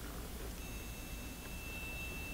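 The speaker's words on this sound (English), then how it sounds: "Notice that the buzzer has come back on." An Estate Swing ES 1600 driveway gate opener buzzer sounds as a thin, steady high-pitched electronic tone, faint and continuous beneath loud outdoor noise.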